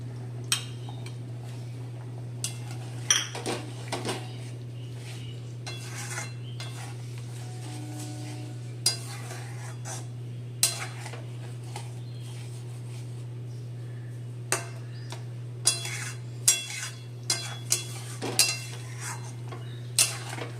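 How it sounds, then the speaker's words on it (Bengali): Sour yogurt going into a pan of cooked pointed gourd, followed by a spoon stirring and tapping against the metal pan, scattered clinks and scrapes over a low steady hum from the stove. "এবার আমি টক দইটা দিয়ে দেব"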